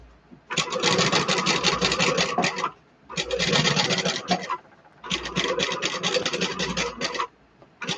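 A sewing machine top stitching a fabric beauty bag runs in three sustained bursts of rapid, even needle chatter with short pauses between, close and fairly loud.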